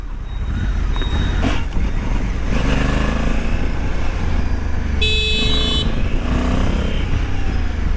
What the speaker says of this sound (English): I'm riding this bike, which is so big a bike and very smooth